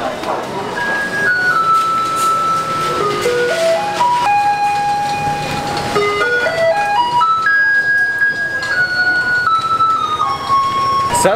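A Taiwanese garbage truck plays its tinkling electronic melody, heard clearly and continuously as a repeating tune. It sounds loud and fairly close in a village street, with steady background noise underneath.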